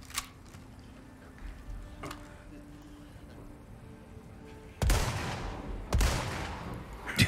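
Two sharp, loud gunshot blasts in Resident Evil 4 Remake ring out with decaying tails after a quieter stretch of faint clicks and low background hum.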